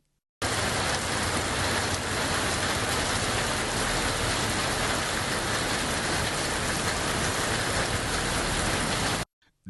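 Heavy rain pours down steadily around Sholavandan in Madurai district, Tamil Nadu, a loud, unbroken roar of downpour that starts abruptly and stops just as suddenly, with no voices.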